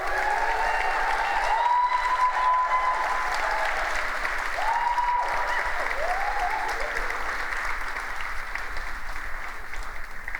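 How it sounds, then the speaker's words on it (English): Conference audience at an entrepreneur summit showcase gives a round of applause that holds steady and full for several seconds, then gradually thins out. "can we just give them some preemptive love right now with a round of applause for all the entrepreneurs?"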